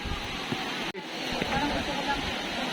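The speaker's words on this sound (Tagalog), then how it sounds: "Ang Ubot Falls ay isa sa pinagmamalaking falls ng Maria Aurora" Ubot Falls in Maria Aurora, Aurora, roars as a steady, loud rush of falling water, with voices faintly mixed into the constant wash.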